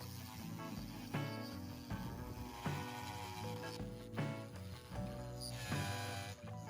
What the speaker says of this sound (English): in order to make them fit I need to cut a couple of holes